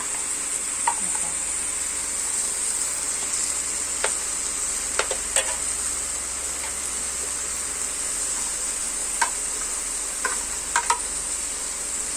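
Fried salted fish and Chinese kale crackle and hiss in a wok, a steady high sizzle with scattered sharp pops and occasional stirring clicks, no talking.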